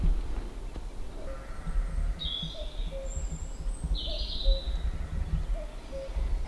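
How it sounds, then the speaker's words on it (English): A common cuckoo calls far off in countryside, its faint two-note calls repeating at steady intervals over a low rumble of wind and background noise. "I've just heard a cuckoo, cuckoo,"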